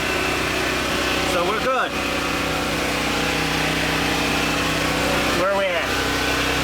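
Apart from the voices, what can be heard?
generator engine running, powering 1998 Maytag Performa electric dryer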